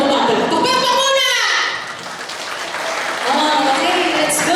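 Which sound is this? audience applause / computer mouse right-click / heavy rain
audience applause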